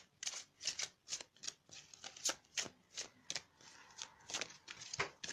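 Tarot cards shuffle by hand in quick, crisp riffling bursts, some falling loose, close and fairly quiet with no voice over them.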